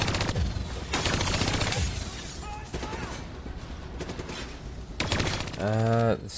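Rapid bursts of gunfire from Black Ops III, shooting down bats, come in dense clusters at the start and near the end, with a brief electronic tone in between.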